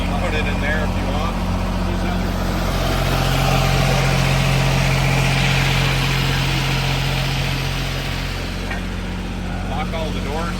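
A parked car's engine idles with a steady, low, continuous rumble close by, while people talk over it throughout.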